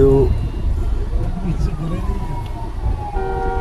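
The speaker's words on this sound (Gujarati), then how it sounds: "પાછળ એમ્બ્યુલન્સ છે" An ambulance siren wails with a slowly falling, sweeping tone through loud crowd and traffic noise at a tea shop opening in Palanpur, with people talking nearby.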